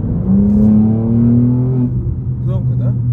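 A loud BMW M4 G82 engine revs up, its pitch climbing steadily, then drops back to a rumble as a voice speaks briefly at the end.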